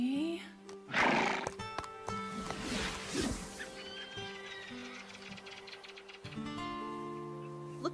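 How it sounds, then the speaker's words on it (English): Horses neigh and whinny in a stable setting from an animated series, with a loud nearby call early on followed by further whinnies and faint hoof movement, under soft background music. "when horses neigh to each other, it's about status and rank."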